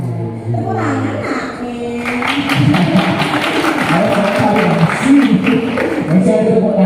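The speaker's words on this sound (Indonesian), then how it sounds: "Tepuk tangan" An audience breaks into clapping at a Balinese vocational school performance in Gianyar, with steady applause rising after a speaker's voice and continuing under more talk.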